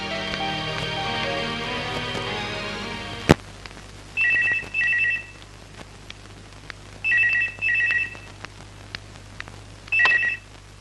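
A telephone rings in four short double-trill bursts with pauses between them, clear and fairly close, after a man and a woman argue indoors in a house; steady rain-like background hiss under the rings.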